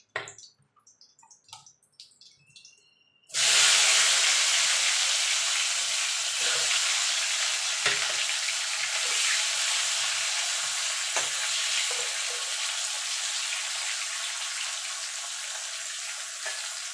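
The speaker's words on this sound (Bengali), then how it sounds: "এইভাবে সব চাল কুমড়োগুলো আমি ভেজে নেবো।" Slices of ash gourd dropped into hot oil: after a few quiet seconds of light clatter, a loud, continuous sizzle bursts up and keeps crackling steadily as they fry.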